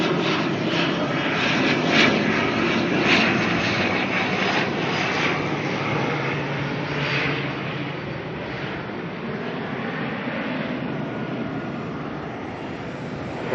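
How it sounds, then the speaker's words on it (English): ATR turboprop airliner arriving at Auckland Airport, a steady broad engine roar held at a distance, slowly easing off, alone without talk. "ATR here coming in from Napier."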